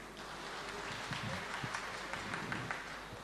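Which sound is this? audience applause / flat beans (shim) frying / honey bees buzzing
audience applause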